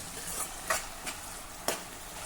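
Tomatoes sauté in a pan for a Maharashtrian potato curry, a soft continuous sizzle broken by three sharp spatula scrapes spaced apart.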